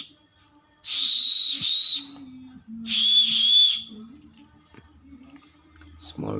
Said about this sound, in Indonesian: whistle, small whistle.